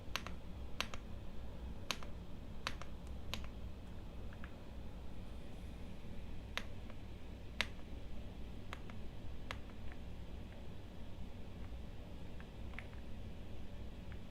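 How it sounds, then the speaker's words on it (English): Typing on an AULA F87 mechanical keyboard, with scattered sharp key clicks over a steady low background hum, heard alone without speech. "So keyboard, it has a nice sound."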